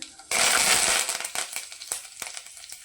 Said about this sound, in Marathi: तर त्याच्यामध्ये आपण जिरा आणि मोहरी टाकून घेऊया। त्यानंतर कढीपत्ता